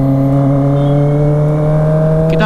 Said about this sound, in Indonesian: BTW ini suara knalpotnya bacot banget guys